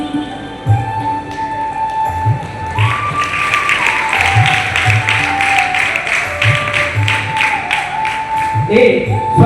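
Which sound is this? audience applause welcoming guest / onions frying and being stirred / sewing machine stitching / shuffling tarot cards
audience applause welcoming guest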